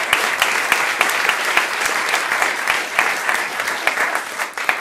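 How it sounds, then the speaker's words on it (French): A television game show audience applauds a contestant who has just won a round, loud dense clapping with sharp individual claps standing out, continuous for several seconds and fading slightly at the end. "On applaudit Joël qui a gagné cette manche."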